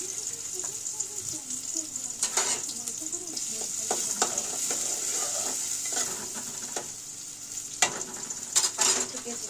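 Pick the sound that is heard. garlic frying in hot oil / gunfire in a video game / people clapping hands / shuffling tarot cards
garlic frying in hot oil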